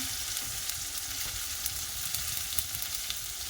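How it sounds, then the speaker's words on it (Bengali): Ground turmeric, chili and cumin sizzling in hot oil, a dense continuous crackle with small pops, close and steady with no voices. "তেলের ওপর হলুদ গুঁড়ো, তেলের ওপর লঙ্কা গুঁড়ো, জিরে গুঁড়ো দিয়ে দিলাম,"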